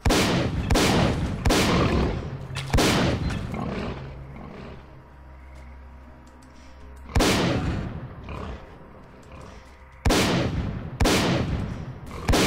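Loud shotgun blasts in a video game, about five heavy booming shots spaced unevenly with pauses and reload between them, each with a sharp attack and rumbling decay.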